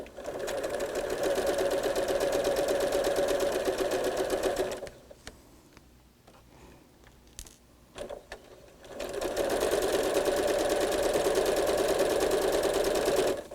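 A sewing machine stitches a quilt block along the sides of a diagonal line for half-square triangles. It runs as a steady, loud mechanical whir for about five seconds, pauses with faint handling noises, then runs again just as steadily.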